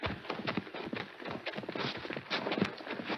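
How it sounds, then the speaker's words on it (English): Horse hooves approach on a 1942 radio western, an irregular clip-clop of close, muffled thuds over a steady background, with no voices. "Someone coming. Yeah, I hear a horse."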